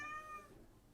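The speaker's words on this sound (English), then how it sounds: "Oh, that's my cat." A domestic cat meows close by, a single drawn-out call with a clear tonal pitch that fades after about half a second, leaving faint room noise.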